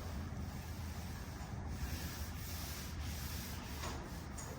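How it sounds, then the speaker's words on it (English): A hand rubs slowly across a car's sheet-metal hood to feel for dents and waves, a steady, soft, close-up rasping friction with no pauses. "he's gonna feel the whole hood and see if he can find anything"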